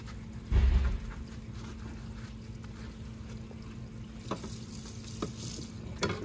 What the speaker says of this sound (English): We're just going to wash this spatula real quick